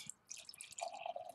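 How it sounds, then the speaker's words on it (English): Henhouse Grain Bravy DIPA beer is poured into a glass outdoors, a soft, brief trickle and splash of liquid that is quiet and close. "Pour it in a glass."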